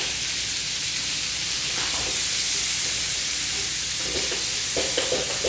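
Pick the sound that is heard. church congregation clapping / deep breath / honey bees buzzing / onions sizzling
onions sizzling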